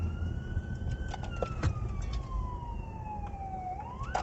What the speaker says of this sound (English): Oh, it's another ambulance. It's behind me.